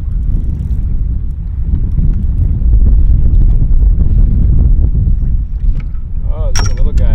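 Wind roars across a small trolling boat speeding over a lake, loud buffeting wind noise mixed with hull and water rush, with some brief chirpy sounds near the end.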